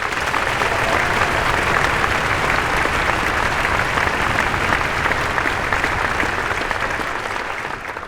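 Loud, dense audience applause at a Western Michigan University marching band performing arts showcase, a continuous roar of many hands that holds steady and begins to fade in the final second.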